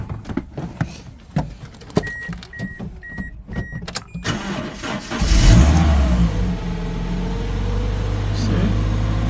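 A car engine cranks and catches partway through at a car auction in Japan, settling into a steady idle after some clicking and handling noises, with people talking nearby.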